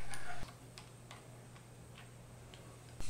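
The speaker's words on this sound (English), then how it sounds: "Use a ratchet with a 17mm socket to tighten the bolts." A ratchet with a 17 mm socket tightening the ring gear cover bolts on a pump gearbox: faint, evenly spaced clicks over a low hum, with louder bursts at the start and end.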